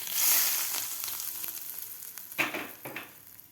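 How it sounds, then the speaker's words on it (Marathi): Hot oil poured into methi pakora batter sizzles sharply, then the batter crackles and squelches as it is stirred, close and fairly quiet, with no talking. "तेल घालायचं आपल्याला गरम केलेलं."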